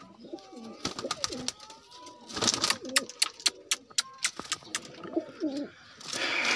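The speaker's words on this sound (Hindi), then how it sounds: "ये मेरा कबूतर है।" Pigeons in a home loft coo repeatedly in soft, throaty phrases, with wing flutters, sharp clicks and scattered bird chirps filling out a busy, close-up bird chorus.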